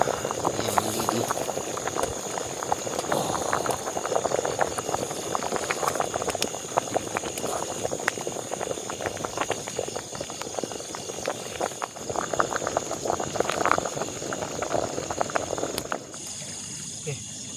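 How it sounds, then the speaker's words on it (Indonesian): Water boils hard in a pot at a beachside campsite in heavy rain, a dense, steady bubbling and hissing that runs unbroken before dropping away near the end, close and fairly loud. "Ini mendidih nampaknya."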